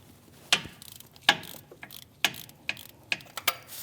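A ratchet with a 15mm socket loosens the starter bracket bolt on a 2016-2025 Chevrolet Malibu 1.5L L4, giving several sharp clicking bursts in uneven succession, close and fairly quiet.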